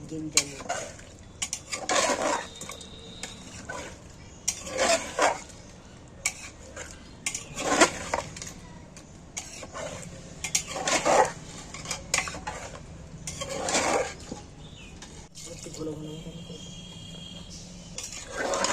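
A spoon scrapes and clanks against a cooking pot as meat curry is stirred, prepared in a wedding-feast style. The bursts of metal contact come in irregular spurts, close by, with quieter pauses between.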